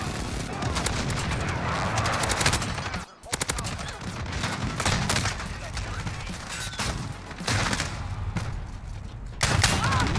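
Crouching hip-fire in a first-person shooter video game produces loud, rapid bursts of automatic gunshots. The firing runs continuously with a short pause near the middle and heavy low thumps beneath the cracks.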